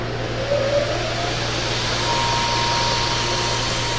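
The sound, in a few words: RPS 2x72 belt sander/grinder running at speed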